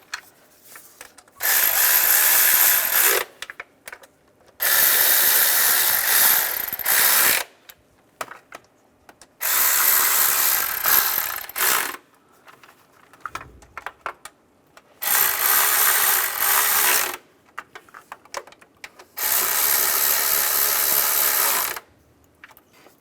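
A ratchet snugs up the nuts on a starter motor during a starter replacement on a 2004–2010 BMW X3. Five long bursts of rapid clicking sit close and loud, with short quiet pauses between them and no voices.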